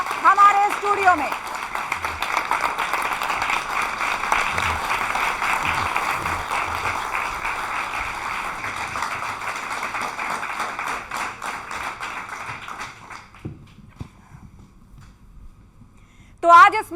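A studio audience claps steadily and loudly for about thirteen seconds in a broad wash of applause, which then cuts off abruptly into near silence before a brief voice at the end.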